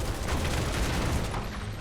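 Barrett's gun arm in Final Fantasy VII Remake Intergrade on hard mode fires a steady, dense stream of gunfire, a loud, continuous rattling barrage with a deep low-end rumble that runs unbroken for the whole stretch.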